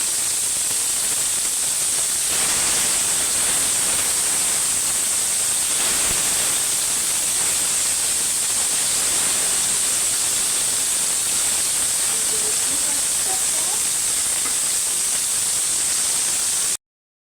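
Large poa fish fry in hot oil in a frying pan, giving a steady, hissing sizzle that holds evenly for the whole stretch, close and constant, with no talking.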